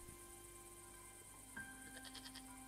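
A goat bleats several times in the Broken Sword 5 video game, short wavering calls coming near the end over steady ambient game music, with no talking.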